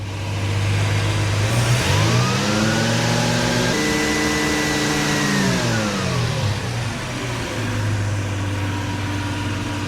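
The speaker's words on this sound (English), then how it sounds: "So we got to rev the engine up." A car engine, tuned for timing checks, revs up from idle, climbs and holds a high steady speed, then drops back to idle; loud, close and alone.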